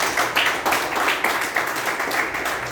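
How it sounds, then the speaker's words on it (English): An audience at a youth leadership program meeting gives a round of applause, with dense, steady clapping from many hands throughout and no break. "Give them a round of applause."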